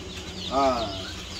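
Rhode Island Red chicks and chickens in a home backyard coop, one clear cheeping call rising above a soft murmur of other birds.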